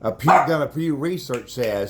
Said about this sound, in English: that's my dog barking there